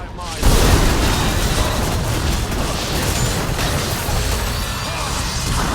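Enemy turret in the Wild Rift video game collapsing in a sudden loud crash that breaks into a sustained rumbling burst, with an announcer's voice over the game sounds.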